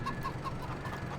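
Chickens cluck in Farming Simulator 22 during a quiet winter day on the farm, a few short soft clucks repeating in a steady low barnyard murmur.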